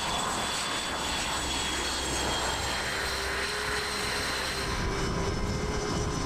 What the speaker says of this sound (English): He traps the wire for a remarkable 900th time in his Navy career.